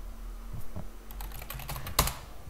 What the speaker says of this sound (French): Si vous entendez plus fort mon clavier parce que je tape